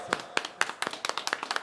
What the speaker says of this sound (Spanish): Un aplauso para toda la gente chambera